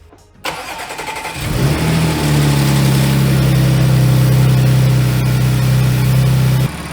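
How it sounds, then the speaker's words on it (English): A fire-damaged supercharged Audi S4 cranks briefly and catches, its engine surging up then settling into a loud, steady idle with a low hum and supercharger whine, close by and without talk. "So let's turn this car on, let it idle a bit"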